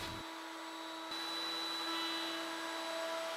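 A router table spins at steady high speed while rounding over the corners of a wooden shop stool leg, a continuous loud whine with a sharp pitch shift partway through as the bit engages the wood.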